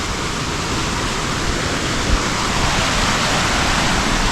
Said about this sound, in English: the noise that's coming from this stream, which was a little babbling brook